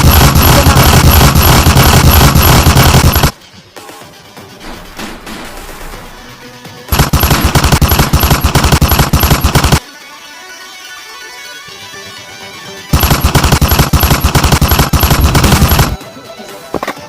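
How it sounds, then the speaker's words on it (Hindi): Heavy bursts of automatic gunfire crash in three long, loud blocks of several seconds each, separated by quieter stretches of rumble and scattered noise in a staged wartime attack scene. "ज्यादा गोली का आवाज आ रहा है।"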